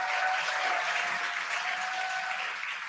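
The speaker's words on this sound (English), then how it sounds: "You can hear the crowd here." Crowd cheering and applauding at a public viewing of the Dragon Freedom capsule's splashdown return as its drogue parachutes deploy, a steady wash of crowd noise that stays loud throughout.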